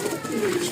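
Pigeons of the plump gola (round-bodied) type, each about 250 grams, give a soft low cooing close by. It runs as a steady, continuous call over a noisy background.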